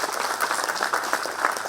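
Steady, dense audience applause fills a hall at the Odisha High Court's anniversary celebration of its Record Room Digitization Centre, a continuous close wash of many hands clapping with no pause.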